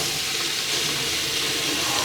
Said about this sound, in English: And we're adding in cold water.